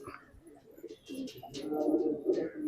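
Pigeons coo softly inside a loft in Valapattanam, Kannur, a faint, low, rolling cooing with scattered rustles and a few other faint sounds around it.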